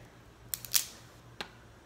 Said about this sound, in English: For the body, I like to press it to kind of loosen it up a little bit, and then I like to just peel everything back.